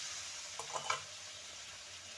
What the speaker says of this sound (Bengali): দিয়ে দেব সামান্য জল যাতে করে মশলাটা না ধরে যায়